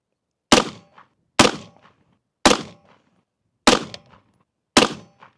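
Five sharp rifle shots fired one at a time at a steady pace, each a crisp loud crack with a short decaying tail, while zeroing a DNT NVMD-C200 night vision rifle scope at a target range.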